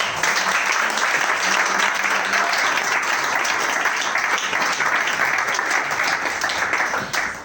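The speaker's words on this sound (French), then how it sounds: "J'aimerais vraiment qu'on acclame le Seigneur." A church congregation at a thanksgiving service breaks into sustained, dense applause that fills the room steadily for several seconds before starting to taper at the end.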